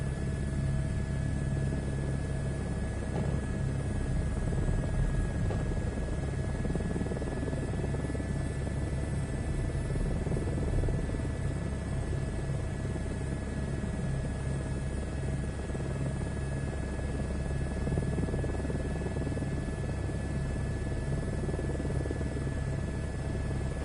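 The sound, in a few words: helicopter taking off in Microsoft Flight Simulator 2024 video game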